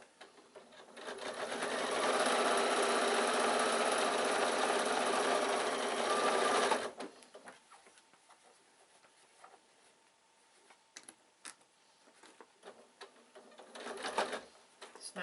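A sewing machine top stitches through thick layers of a fabric bag near its zip, running loud and continuous for about five seconds, then stopping before quieter handling noises.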